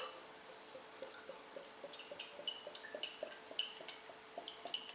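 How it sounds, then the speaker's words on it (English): Ocean Göteborgsporter beer is poured into a Hobgoblin pint glass, with faint, closely spaced glugs and dripping splashes at an even rhythm. "let's get poured into the Hobgoblin pint glass"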